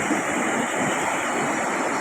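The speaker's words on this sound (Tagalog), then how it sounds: "Kaya may alon pa rin." Sea waves wash steadily after the wind has died down, a continuous close rushing surf with no voices.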